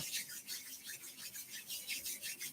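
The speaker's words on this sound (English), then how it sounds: "you can generate a little bit of friction by rubbing palms together." Palms rubbing together make a soft, close, rhythmic swishing friction sound, repeated in steady back-and-forth strokes about four per second, quiet and alone.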